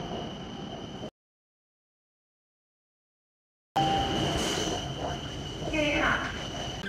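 A nearly empty Bangkok train rumbles along with a steady mechanical hum and a brief high squeal, heard from inside a carriage; the sound cuts out partway through.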